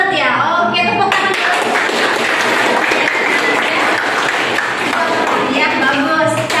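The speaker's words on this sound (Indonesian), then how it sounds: "Oke, tepuk tangan." Applause fills a classroom, a dense, steady burst of many hands clapping at once, loud and close, running without a break for several seconds after the teacher calls for it.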